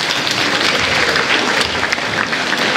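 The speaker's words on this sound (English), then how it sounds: "Give yourselves one more round of applause." Audience at a school Schools to Watch ceremony applauding, a dense, steady burst of many hands clapping close and loud throughout, with no talking over it.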